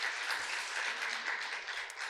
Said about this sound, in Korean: 우리 박수로 한번 격려할까요?